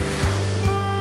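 Waves breaking on the shore of a Sea of Japan beach in early summer, with a steady surf wash and two soft thumps of breaking water, close and continuous.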